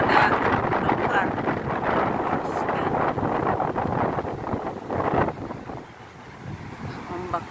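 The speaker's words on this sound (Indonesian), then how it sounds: "Ombaknya jadi besar karena windy, anginnya kencang, strong wind." Strong wind buffets the microphone on a black-sand beach at Pangandaran with high surf, a constant loud roar blending with crashing waves, easing slightly toward the end.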